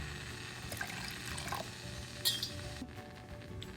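Water pours into a horse gram paste in a kitchen pot, giving a soft, quiet trickle and splash with a few faint clinks of utensils, with no talk.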